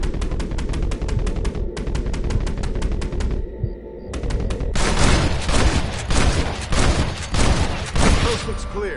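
Rapid gunshots in Red Dead Redemption, a long string of sharp evenly spaced cracks that stops briefly, then returns as dense, louder overlapping fire.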